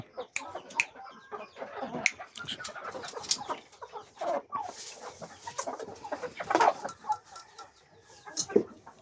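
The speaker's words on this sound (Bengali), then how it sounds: "ব্রাহ্মা মুরগিটা একদম পিওর ব্রিড হয়েছে" A purebred Brahma chicken clucks in short bursts close by, with scattered rustling and other birds around.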